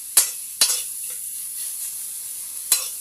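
Ampalaya (bitter melon) dish frying in a single pan, giving a steady close sizzle with a few sharp crackling bursts, no talking.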